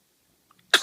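A little girl's single sharp sneeze bursts out near the end after near silence, loud and close, preceded by a couple of tiny faint noises.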